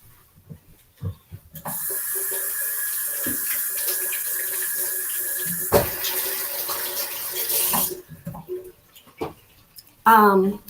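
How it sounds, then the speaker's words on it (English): A kitchen faucet runs steadily for about six seconds while hands are washed, a close, loud hiss with splashing, then the flow shifts and stops; a person speaks briefly before and after. "Let me wash my hands."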